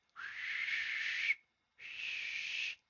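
A person whistles to imitate wind blowing from a mine shaft, giving two long steady airy tones with a short gap between them, breathy and hollow like a gust.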